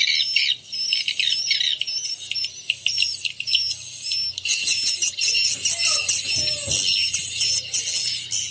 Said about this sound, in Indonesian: dia DNA-nya lebih ke suara birahi teman-teman ya, suara birahi anakan.